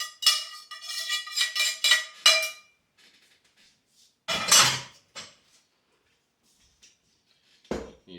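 Cooked stuffing mixture for New England stuffed quahogs being dumped into a bowl, heard as a run of sharp metallic clanks and scrapes, then a pause, a louder scraping clatter and a final lone knock.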